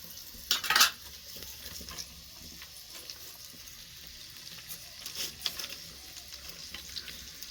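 Onions fry for a fried egg in a pan, a soft steady sizzle with a loud scrape and clatter of a utensil near the start, then lighter intermittent stirring knocks throughout.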